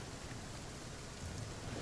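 Rain in the survival video game The Flame in the Flood: a faint, steady hiss of rainfall with a dense pattering texture that stays constant throughout, with no speech.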